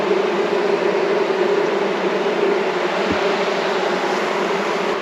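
Honey bees buzz steadily at an open hive where new bees are hatching from capped brood, a dense, continuous droning hum close by with no talking.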